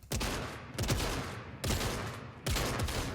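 Gunfire in the Fortnite video game: four bursts of rapid shots, each a sharp onset trailing off, evenly spaced and fairly quiet.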